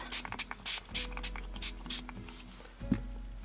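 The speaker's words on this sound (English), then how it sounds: "spray and kind of let it run down" Short bursts of mica ink spray hiss onto paper in quick succession, several in a row, then a quieter stretch with a faint knock.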